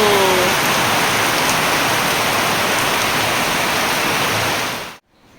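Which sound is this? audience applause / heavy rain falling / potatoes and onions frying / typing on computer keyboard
heavy rain falling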